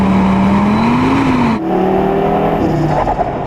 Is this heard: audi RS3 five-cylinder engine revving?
yes